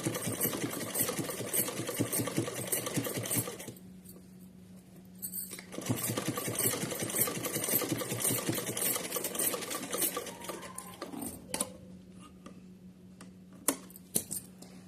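A sewing machine stitches a small dress for a Laddu Gopal idol, running in close, rapid mechanical bursts with short pauses between them and a few sharp clicks near the end.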